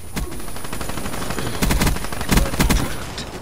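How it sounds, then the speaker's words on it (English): The Weevil rifle firing in Call of Duty Black Ops 3 gameplay, rapid automatic bursts with sharp repeated reports, loudest in a few clusters near the end, over a dense game background. "the gun that I'm using is called a Weevil, and it's a pretty cool gun"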